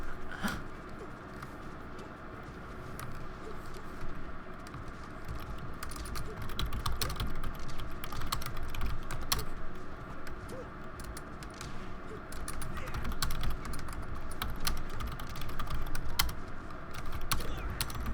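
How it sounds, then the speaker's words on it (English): Keyboard typing runs steadily through a busy background hum during a Super Smash Bros. Melee coaching session, with scattered clicks under a constant wash of game sound. No one speaks. "I'm just typing right now"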